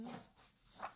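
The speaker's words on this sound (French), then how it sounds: "je suis désolée pour le bruit, c'est mon chien." A dog whimpers softly in a few short, high whines, quiet and close, with brief pauses between them.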